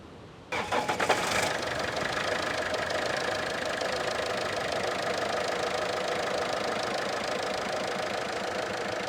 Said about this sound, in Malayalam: സ്റ്റാർട്ട് ചെയ്യുമ്പോഴത്തേക്ക് നിങ്ങളിപ്പം കണ്ട കണക്ക് ഒരു വിറയിലും അത്യാവശ്യം ചെറിയൊരു ശബ്ദം കൂടുതലും ഈ ഒരു എഞ്ചിൽ നിന്ന് കേൾക്കാറുണ്ട്